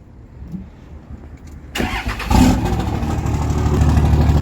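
A Cummins diesel truck engine with an 8-inch axle-dump exhaust cranks and catches, roaring up loudly, then settles into a steady, rumbling idle up close.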